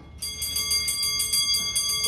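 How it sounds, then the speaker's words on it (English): A rapid metallic alarm bell on a 1714 Frisian stoelklok clock rings continuously, a fast steady hammering trill, bright and close, with no voices. "And here in just a moment, you'll hear the alarm."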